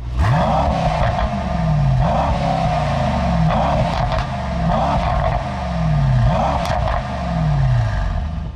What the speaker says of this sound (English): the quad exhausts sound pretty good coming from this V8